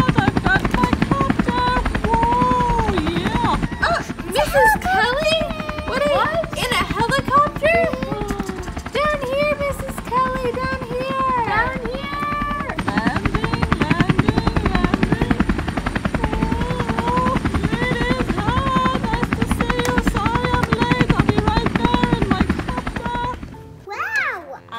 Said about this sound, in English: I've got my helicopter!